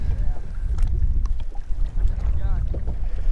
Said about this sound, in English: I can't take this wind anymore.